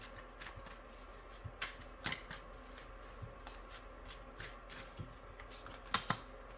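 Tarot cards being shuffled and drawn, a run of soft quick riffles and sharp card snaps and taps at close range in a quiet room, without speech.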